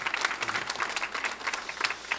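Church congregation applauding to welcome a guest, a university student from Busan, at a Sunday morning worship service; steady dense clapping fills the clip at moderate level.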